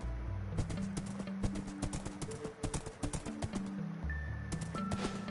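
Hooves of a horse running in a survival video game clop in a quick, uneven patter, fairly close and steady, with short game tones mixed in.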